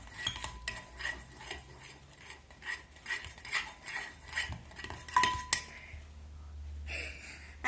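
Yellow slime being mixed in a container with a utensil, giving rhythmic close scraping and clinking strokes that repeat steadily, with a few sharper metallic taps.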